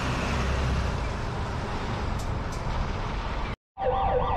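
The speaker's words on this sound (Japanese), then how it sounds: "ここで札幌市消防局の救急車が登場。" A Sapporo City Fire Bureau ambulance siren wails over steady, loud traffic rumble at Sapporo Station bus terminal, cutting out briefly before warbling again near the end.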